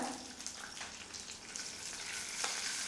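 Green chili, turmeric and red chili powder fry in hot oil for a tempering, giving a constant crackling sizzle with stirring clatter close up and no talk.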